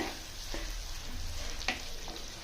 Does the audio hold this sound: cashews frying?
yes